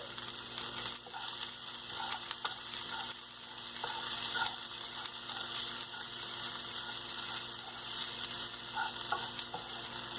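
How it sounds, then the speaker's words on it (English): Mixed vegetables with turmeric and chili powder sauté in a pan, giving a steady close sizzle broken by frequent stirring scrapes and light clicks throughout. "We have to saute these vegetables"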